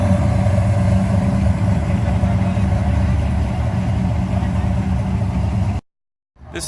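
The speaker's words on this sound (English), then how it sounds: "Check out the engine." A classic car engine idling with a steady, loud low rumble for several seconds before it cuts to silence near the end.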